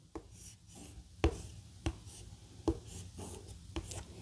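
A pen or brush writes a Chinese character by hand, giving soft scratching strokes with a few sharper taps as strokes start and end, quiet and close in a calm room.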